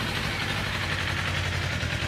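A Kawasaki KLE 500 SE motorcycle engine idles with a steady low, even rumble throughout, close and fairly loud, with no voices.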